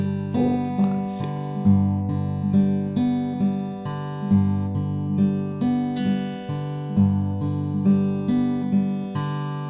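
O Holy Night intro on guitar, a steady down-up picking pattern over repeating chords, played without a capo; the plucked notes ring clearly and evenly in a looping rhythm, close and moderately loud with no talking.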